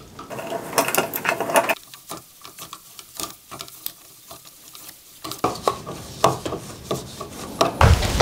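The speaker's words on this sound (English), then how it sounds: "Like so, screw this in." A screw is driven into a Box Doctor clip set inside an electrical box between box and drywall, giving close, uneven scraping and grinding bursts broken by short pauses.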